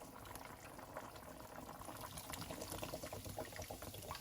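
A can of beer pours into a pot of braised ribs that already holds bean paste, soy sauce, rock sugar and hot water. The liquid runs in a steady, faint stream, with a fizzing, bubbling trickle throughout.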